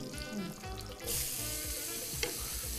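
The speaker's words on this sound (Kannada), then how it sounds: "ಸಣ್ಣದಾಗಿ ಹೆಚ್ಚಿರೋ ಈರುಳ್ಳಿ ಬಣ್ಣ ಹೋಗೋವರೆಗೂ ಇದನ್ನು ಹುರಿಬೇಕು." Finely chopped onion and a pinch of cumin fry in oil in a pan with a loud, close crackling sizzle. The frying swells about a second in, and a brief sharp stirring scrape follows near the end.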